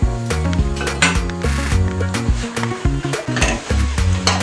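Chin chin dough fries in hot oil, a continuous sizzle mixed with stirring and pan clatter, with a tonal background sound running throughout and no talking.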